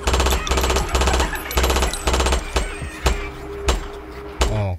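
A cannon fires repeatedly in close, loud bursts, the first few rapid and regular like automatic fire, then spacing out into single sharp booms with brief gaps between them.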